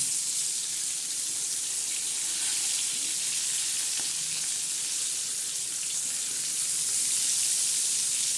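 Bangda mackerel frying crisp in a pan, a steady bright sizzle running evenly throughout with a faint tap or two from the pan and no voices.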